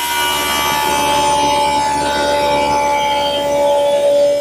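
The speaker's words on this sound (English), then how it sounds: "Now I'm ready to make some rabbets in the back edge of the side panels to receive the oak plywood" A power tool cuts rabbets along the back edges of oak side panels, a steady loud whining drone running on without a break for several seconds.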